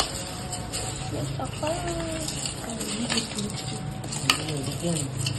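A spoon stirs an egg and puffed rice charmuri mixture in a pan with light scraping and faint sizzling throughout, and a voice speaks intermittently over it.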